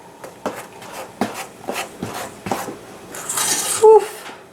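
Oatmeal cake batter being folded slowly in a bowl with a utensil, heard as soft repeated scraping and knocking strokes at close range, ending with a brief clink.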